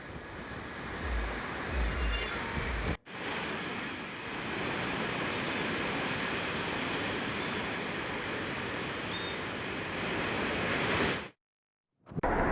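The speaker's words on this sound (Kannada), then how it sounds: "ಮತ್ತೊಂದು ಕಡೆ ಘಟಪ್ರಭೆ ಭೋರ್ಗರಿತಾ ಇದೆ." Roaring water of the Ghataprabha river in flood in Bagalkot, a loud, continuous broadband rush that runs steadily with brief dropouts near the start and end, no voices present.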